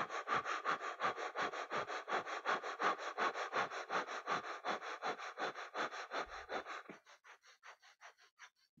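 Rapid, rhythmic nasal breath of fire from a Kundalini yoga practice, about three sharp sniff-like exhalations per second for roughly seven seconds, then a quieter, slowing run of breaths; close and steady with no talking.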